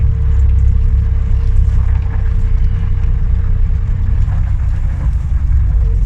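A Bristol VR double-decker bus, registration PKE809M, runs its diesel engine while being manoeuvred into a parking space, a steady loud low rumble heard from inside the cab, with no talk.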